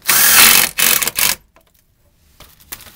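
A power driver runs a self-tapping screw with a washer up into the underside of a Ford Transit step well, giving a loud, close whirring buzz in two bursts before dropping away to near silence with faint handling noises.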